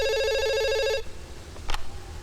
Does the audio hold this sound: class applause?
no